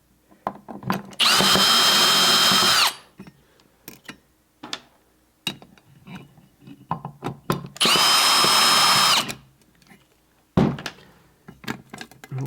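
A power drill removes screws from an ADJ Element Hex IP light fixture in two loud whirring bursts, with clicks and handling knocks in between.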